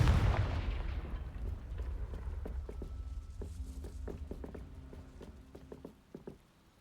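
The Confringo blasting spell in the Hogwarts Legacy video game bursts open with a loud, deep explosive boom that rumbles and fades over several seconds, followed by scattered light clicks and footsteps.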